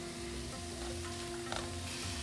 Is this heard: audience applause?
no